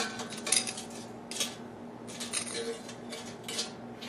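Hash browns are flipped in a metal air fryer basket, giving a string of light metallic clinks and scrapes at close range, with no talking.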